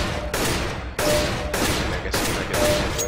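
Rapid gunfire from CS:GO on an aim training map: loud, sharp shot bursts repeat about every half second, close and steady with no talking.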